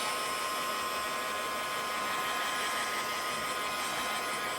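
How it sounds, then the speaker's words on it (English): A heat tool blasts hot air to dry a craft piece, a loud, steady, unbroken whooshing roar that holds constant throughout with no voices. "I'm going to give it a blast with my heat tool"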